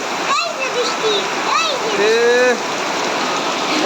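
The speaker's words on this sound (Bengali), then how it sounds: "পুরা বৃষ্টি হইতেছে।" Heavy rain pouring steadily in a village in Lakshmipur, a dense continuous hiss broken by bird calls and faint chirps overhead, with no speech.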